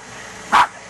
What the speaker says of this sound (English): The dogs have never seen anything like this.